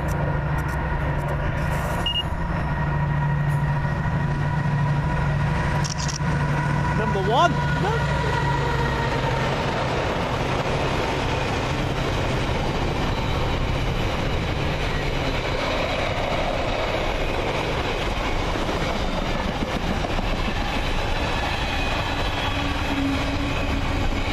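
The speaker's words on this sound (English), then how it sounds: "Here comes uh, one of the lovely class 70s." A British Rail Class 70 diesel locomotive train passes at a steady, continuous rumble with a low engine drone throughout, under light talk.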